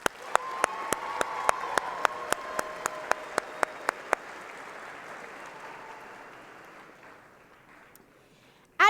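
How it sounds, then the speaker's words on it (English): A crowd applauds at the 2016 Oregon FFA state convention. Sharp, evenly spaced claps ring out over a broad wash of clapping, then the applause slowly fades toward quiet before a short burst at the very end. "one more huge round of applause"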